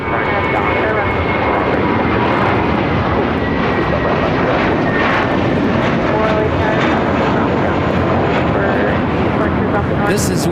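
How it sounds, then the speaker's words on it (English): A JetBlue Airbus A321 jet takes off at LAX, a loud, steady engine roar holding for the whole stretch, with a voice talking faintly over it. "This is Una Nueva Mentalidad taking off to Miami, Florida on this JetBlue A321 flight 2885."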